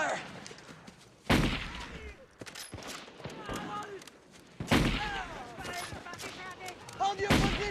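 Gunfire in an action war movie scene: sharp bursts of shots ring out at intervals, heavy and loud, mixed with shouting voices and battle noise.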